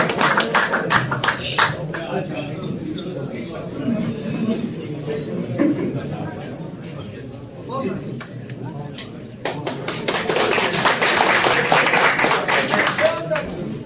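Crowd at a pigeon tournament in Kashmir claps for an invited participant, scattered irregular claps that swell into fuller applause near the end, with murmuring chatter beneath.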